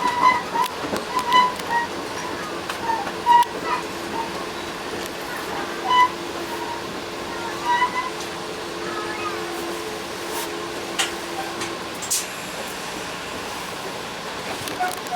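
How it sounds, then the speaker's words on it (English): Heavy rain pours outside a stopped train, a broad steady wash of noise with gusts of wind across the microphone, a faint tone running through the middle and occasional louder swells. "It is pouring right now."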